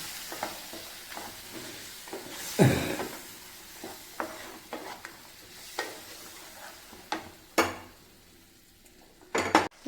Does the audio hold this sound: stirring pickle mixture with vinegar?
yes